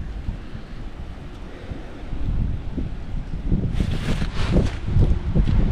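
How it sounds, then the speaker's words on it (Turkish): Wind blows outdoors, rumbling into the microphone in low gusts that grow stronger midway, with rustling buffets and no voices over it. "Rüzgar var, bayağı rüzgarlı ama hava."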